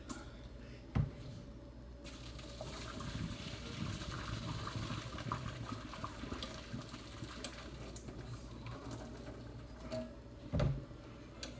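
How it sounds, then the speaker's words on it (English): Water is poured out of a pot of boiled potatoes, a steady, fairly faint splashing and trickling stream with a couple of sharp clanks of the pot. "let me dump some of this water out real quick."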